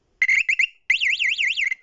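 A 12 volt alarm siren powered from a DC power supply sounds loud and close, first in short rapid warbling bursts, then in a steady rising-and-falling wail lasting about a second before cutting off.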